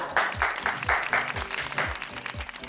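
Guests applauding at an engagement celebration announced by an MC, steady claps with rhythmic low thumps of background music running underneath.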